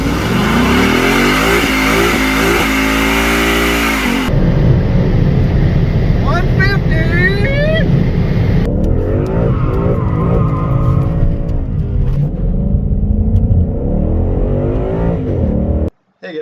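A 2017 Mustang GT engine revs hard at full throttle, climbing through several gear changes, loud and close, with tire squeal and a voice over it.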